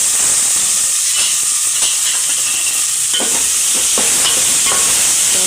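Chopped onion and tomato sizzle in hot oil while being tempered for Gujarati pulao, a steady loud frying hiss with scattered stirring clicks and scrapes.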